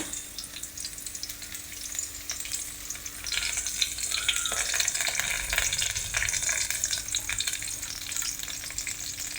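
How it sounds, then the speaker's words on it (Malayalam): Garlic, shallots and washed curry leaves frying in a pan for a roasted-coconut chicken curry, a loud crackling sizzle that swells midway as the ingredients are stirred, continuous and close with no talk. "ഇതെല്ലാം കൂടെ ചേർത്ത് നല്ലതുപോലെ ഒന്ന് ഇളക്കി കൊടുക്കാം"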